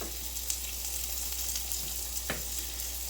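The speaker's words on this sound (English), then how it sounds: "This has got a little salt in it from the garlic, but they'll still stick just a little bit. I give them a good stir." Cajun pork chops with garlic sizzle in a pan, a steady close hiss with a few sharp scrapes as they are stirred; no talking.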